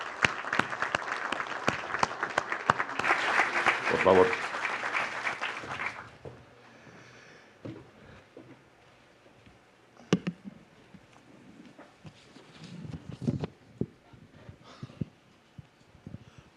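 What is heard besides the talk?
audience applause at a keynote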